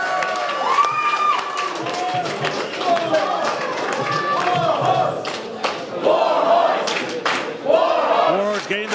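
A wrestling crowd cheers and shouts behind Warhorse during his Glory Pro match with Curt Stallion, a loud continuous roar with chants and yells, and a commentator talks over it.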